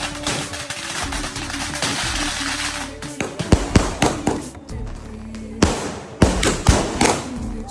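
Firecrackers burst during a family Onam celebration, first under a dense crackling rumble, then as a run of sharp, loud, irregular bangs and thuds that come close together.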